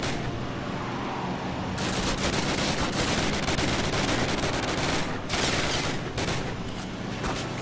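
Gunfire in the first Call of Duty game rings out in loud, dense bursts, with rapid automatic shots and heavy reports overlapping almost continuously, plus brief lulls near the middle and end.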